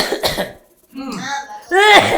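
A person gives a short, harsh cough close by, followed by throaty voiced sounds that may be more coughing or throat clearing, with speech nearby.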